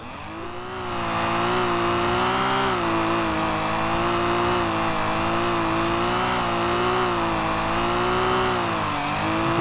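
A 1988 BMW M5 engine in Forza Horizon 4 holds a steady, loud part-throttle drone with a rich harmonic tone, rising gently and wavering slightly as the car is driven on a slippery surface, with no talk over it.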